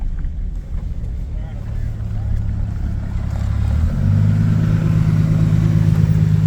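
A restored Bombardier vehicle's engine runs on its first test run, a steady low drone that rises into a louder, higher hum partway through, with wind noise on the microphone.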